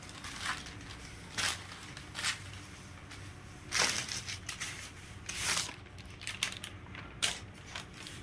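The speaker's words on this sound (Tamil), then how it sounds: "ஒரு சத்தம் உள்ளே கேட்குது இல்லைங்களா? அது பேப்பர், உள்ளுக்குள்ள ஒரு பேப்பர் வச்சுருக்காங்க." Paper tucked inside the packaging of a new saree rustles and crinkles close by in several short, uneven bursts, with quieter handling noise between them and no talking.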